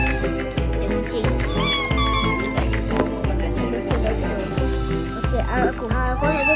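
Cartoonish cat meows from a kitten video game, several rising and falling mews over steady, looping game music with a pulsing beat.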